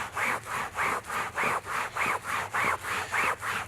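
Fabric scrubbed back and forth during an upholstery fabric durability test, a steady rhythmic rasping with about nine even strokes, close and fairly loud with no talking.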